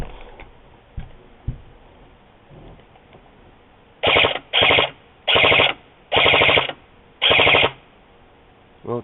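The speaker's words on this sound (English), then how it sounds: "I'm going to take this outside and fire some rounds off" An airsoft rifle fitted with a G&P illuminated flash magazine fires outdoors in five short, loud full-auto bursts, each with a buzzing, ratcheting rattle, after several seconds of quiet.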